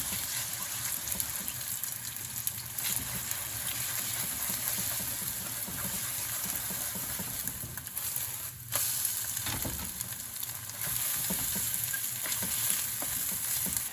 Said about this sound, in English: When the oil temperature rises, we pour in the egg mixture and keep stir-frying.